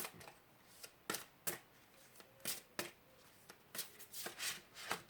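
Tarot cards being shuffled by hand in a quiet room, a series of soft riffling bursts and flicks in an irregular rhythm, faint and close.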